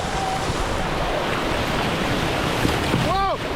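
Rushing whitewater from a river rapid on the Nantahala during a rafting trip roars steadily and loud, with wind buffeting and a brief whooping voice near the end.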